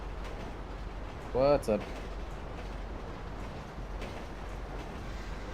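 A train in a roleplay driving game rumbles low and steady in the background, with a brief voice speaking over it partway through.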